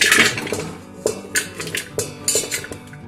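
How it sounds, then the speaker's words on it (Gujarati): Chopped vegetables for a mixed Punjabi pickle (tindora, mango, chillies, carrots, karonda) go into a large metal cooking pot, giving a series of sharp clinks and clatters spaced irregularly, close up, with quiet gaps between. "હવે એક મોટું તપેલું લઈશું, તેમાં આપણે બધા શાકભાજી નાખીશું"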